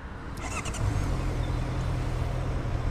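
A 2021 Honda CB650R inline four-cylinder engine fires with a brief start burst, then settles into a smooth, steady low idle hum that stays quiet and even.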